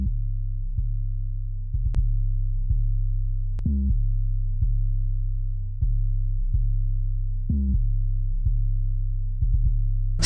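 808 bass run through a channel-strip preamp plugin in Logic Pro, adding low end, harmonics and light distortion, a clean, deep, sustained sub tone with a rhythmic pattern of note retriggers and occasional brief clicks, heard alone.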